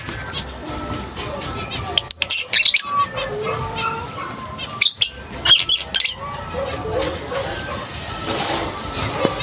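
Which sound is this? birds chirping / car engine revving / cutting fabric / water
birds chirping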